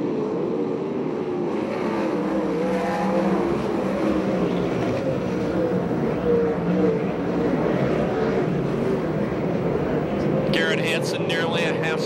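USAC/CRA sprint cars racing on the oval at Perris speedway in California during a Salute to Indy event, a steady loud engine roar from the pack sustained throughout, with a crowd or announcer's voice blended underneath.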